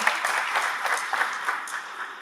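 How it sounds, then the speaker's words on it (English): An audience at a university job fair gives a round of applause, a moderate, steady patter of many hands clapping that holds evenly and fades a little toward the end. "let's give them a round of applause, please"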